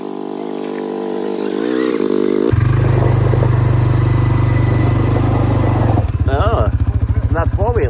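A two-wheeler motorcycle arrives with a loud, close engine drone that swells and holds steady, then gives way to voices speaking near the end.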